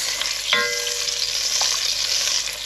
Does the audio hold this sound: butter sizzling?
yes